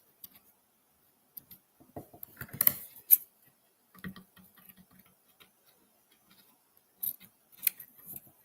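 Scissors trimming craft material in an art workshop, a few sparse close snips and clicks separated by quiet pauses.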